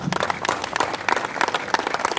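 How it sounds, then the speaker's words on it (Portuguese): Short burst of lively congregational applause at a church worship service, with rhythmic, close-sounding clapping throughout. "Vamos aplaudir a Ele por isso."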